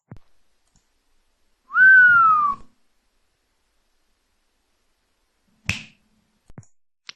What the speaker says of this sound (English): So I recorded the whistle and the snap.